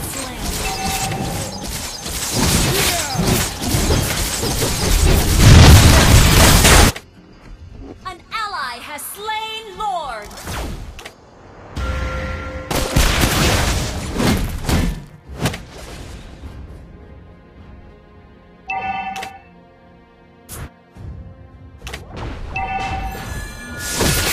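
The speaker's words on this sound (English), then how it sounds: "Our turret has been destroyed." Turret destruction in the Mobile Legends mobile game, heard as loud crashing and thudding impacts with booming hits, followed by quieter clanking mechanisms and game effects, with in-game voice lines over the action.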